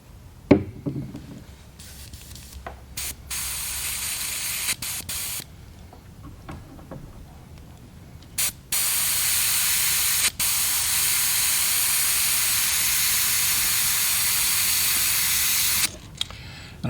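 An airbrush sprays fluorescent purple paint in steady, loud hissing bursts, with short pauses between passes and a long continuous spray in the second half.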